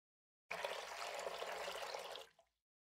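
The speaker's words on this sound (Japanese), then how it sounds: "三葉は顔を洗いながら鏡を見ます" Water from a tap runs steadily as a face is washed in the morning, a continuous close splashing stream lasting about two seconds before it cuts off and trails away.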